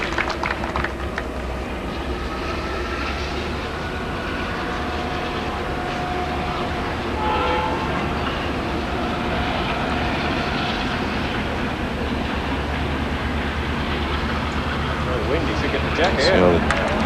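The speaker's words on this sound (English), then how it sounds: "The train goes thundering past the Moama club." A train rumbles past a lawn bowls club during a televised pairs semi-final, a long, steady, fairly distant roar that holds for the whole stretch, heard under a commentator's speech.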